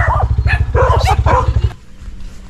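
Several dogs bark in a rapid, loud series close by, steady for more than a second before stopping abruptly and leaving only faint background noise.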